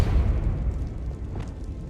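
A Depulso spell blast in the game Hogwarts Legacy: a single deep booming burst that hits at the start and then rumbles and fades away, heard on its own.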